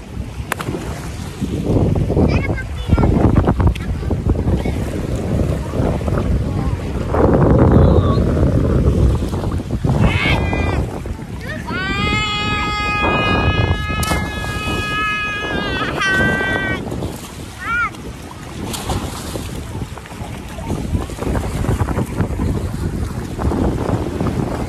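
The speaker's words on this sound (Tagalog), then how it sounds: "Ang hangin." Strong wind buffets a small boat heading to Talao-Talao white beach, a loud continuous roar with gusts across the whole stretch, while high whistling or bleating tones rise briefly partway through.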